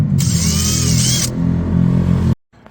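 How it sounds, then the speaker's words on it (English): A power drill boring out a snapped brake caliper bleed nipple on an Audi TT 3.2 whines steadily up close, a loud sustained motor drone with a higher-pitched burst early on, then stopping abruptly. "the nipple didn't want to come out, it snapped off, so now it's drilling out"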